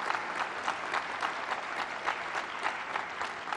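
A crowd at a Pride Fest community gathering applauds steadily, a continuous, even wash of many hands clapping at some distance with no voices on top.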